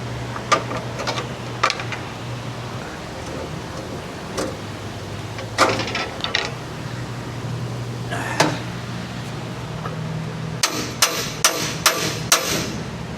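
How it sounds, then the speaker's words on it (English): Metal hammer striking car suspension springs in a repair shop, a series of sharp, separate clanks spaced irregularly at first, then a rapid cluster of blows near the end over low shop hum. "Springs don't normally respond well to hammering."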